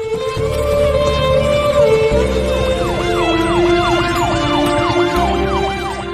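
An ambulance siren in a film wails loud and close in repeated rising-and-falling sweeps, layered over a steady low rumble for the whole stretch.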